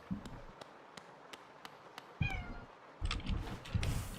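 A cat meows in a video game, a short rising mew heard after sparse soft tapping footsteps, followed by louder rumbling game noise.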